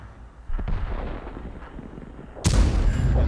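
A deep tank cannon shot from an E50 booms out in a World of Tanks battle, a loud close blast followed by a long rumbling roll, with a smaller thump before it and no voices.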